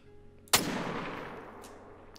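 Single hunting rifle shot in the game Call of the Wild, one sharp loud crack followed by a long decaying rumble.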